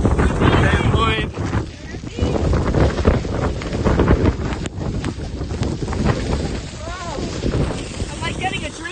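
Strong gusty wind buffets the microphone on a rainy hike at Kea Point in Mount Cook National Park, New Zealand, roaring loudly throughout while people talk underneath.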